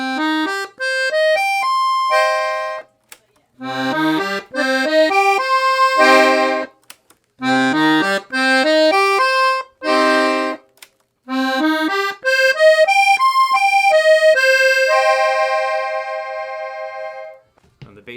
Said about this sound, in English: It has 5 treble registers, and they sound like this.